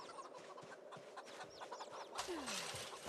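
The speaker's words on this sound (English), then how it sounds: "there's 88 chickens in this pen alone" A pen crowded with chickens on a farm in Project Zomboid clucks busily, with overlapping soft clucks and short rising chirps over a steady hum and a quick swell of noise partway through.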